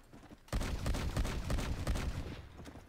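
Fully automatic gunfire from the video game Red Dead Redemption, a sustained rapid burst of loud shots starting abruptly and rattling on for over two seconds before thinning out.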